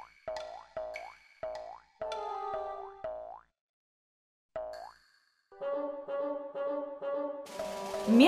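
A bouncing ball in the cartoon Ruby and Yoyo makes a rapid run of springy boings, then a pause and a sustained, wobbling tonal jingle.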